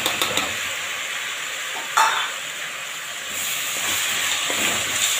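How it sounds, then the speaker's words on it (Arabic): Tomato juice poured into a hot pan of vegetables, peppers and spices, bursting into a loud, steady hiss and sizzle that swells briefly and then holds throughout, close by with no talking. "هنزل بعصير الطماطم"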